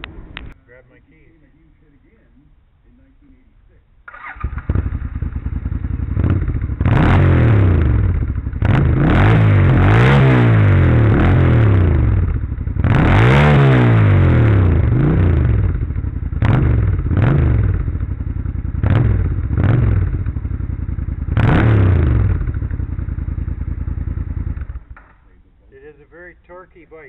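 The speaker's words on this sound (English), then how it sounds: "Why don't you fire it up and we can hear the exhaust." A Suzuki Intruder motorcycle starts and idles loudly nearby, its exhaust throbbing with repeated revs and a rough, pulsing rumble for about twenty seconds before shutting off, with a voice heard over it.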